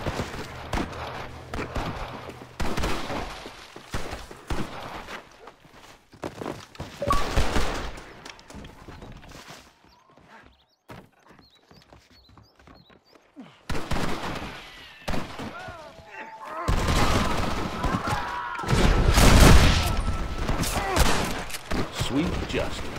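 Heavy gunfire from big guns in a video game: repeated bursts of shots and booming fire, dense and loud at the start and again near the end, with a quieter lull in the middle.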